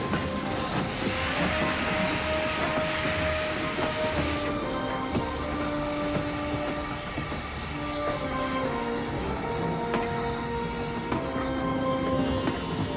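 A British steam train carrying sheep pulls away, with a loud hiss of escaping steam at first, then steady rumbling and squealing wheels over the track as it gets underway.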